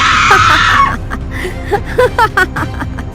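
A loud, shrill female scream fills the first second, followed by short choppy vocal bursts like cackling or strained cries.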